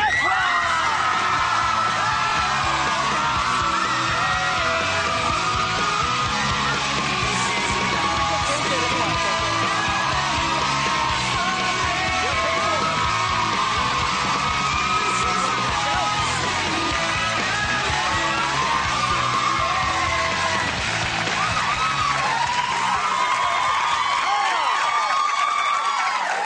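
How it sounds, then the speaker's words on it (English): A studio audience screams and cheers continuously and loudly for a celebrity guest on a live talk show, a dense, sustained roar of shrieks and whoops that fills the whole stretch and only thins near the end. "Start your screaming now for Zac Efron!"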